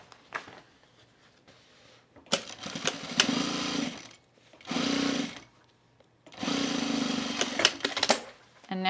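Sewing machine top stitching denim jean shorts, running in three separate bursts of a few seconds each with quiet pauses between, close and steady while in motion.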